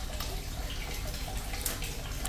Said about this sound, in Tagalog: humina po siya, ibig sabihin yung normal na daloy lang po ang tubig na dumadaloy dyan